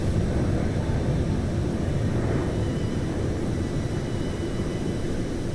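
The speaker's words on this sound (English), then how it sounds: "Cabin crew aircraft is on descent." Airliner in Microsoft Flight Simulator descends toward Tromsø, a steady loud engine and wind roar holding constant throughout, without talk.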